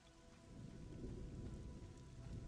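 Rain in the video game Pantheon: Rise of the Fallen, a quiet, steady low rumble of downpour with a faint constant hiss and no voices.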